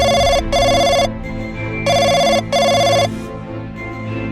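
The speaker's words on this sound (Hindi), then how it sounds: "इधर गुल्ली बुल्ली कंप्यूटर पर हॉरर वीडियोस देख रहे थे और तभी इनका टेलीफोन बजने लगता है।" A cartoon telephone rings in two pairs of bright electronic trills, each burst about half a second long with short gaps, loud and close over a low background of music.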